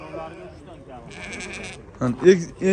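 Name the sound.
sheep bleating at livestock market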